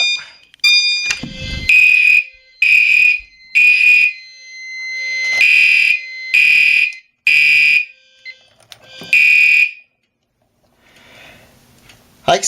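Commander 3 fire alarm horns blare during a system test in repeated loud, piercing bursts with short gaps between, plus a clunk near the start and a faint tail at the end.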